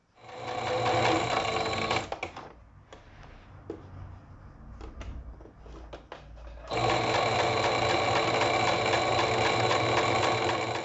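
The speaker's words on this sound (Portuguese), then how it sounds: "E agora eu vou rebater ela novamente aqui, ó, tá? Com outra costura aqui, ó, para poder prender ele aqui no meu decote" A sewing machine runs a second topstitch seam along bias binding at a garment neckline, with a steady loud whirring run for two seconds, a pause full of light handling clicks, then another sustained stretch of stitching to the end.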